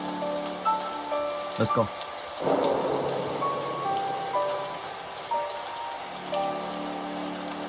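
Steady rain from the video game Slendrina 2D patters continuously under low game music, with a few sharper knocks early on and a voice speaking briefly.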